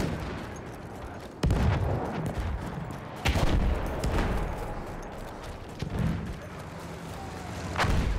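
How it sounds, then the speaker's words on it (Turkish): Bombs explode behind the player in Battlefield 1, with several heavy booms and cracks landing at intervals over a rumbling wartime battlefield. "arkaya düşen bombalara bak"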